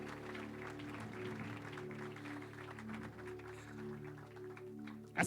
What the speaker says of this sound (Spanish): Denle ese aplauso más fuerte para el Rey de Reyes